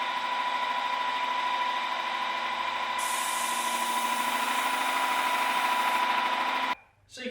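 A Wagner TempSpray heated-hose paint sprayer runs at 500 psi and 40 degrees, giving a loud, steady mechanical whine with a strong constant hum. It brightens partway through, then cuts off abruptly near the end.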